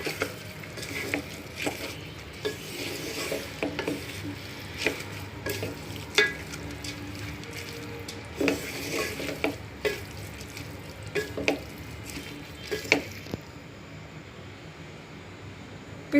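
Rice being stirred with potatoes in a pan for aloo pulao gives a soft sizzle, with repeated scraping and clinking strokes of the spoon at an irregular pace.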